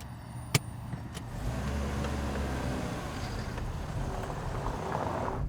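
Taxi car driving through Istanbul streets in winter, a steady engine and road rumble running throughout, with a sharp knock near the start.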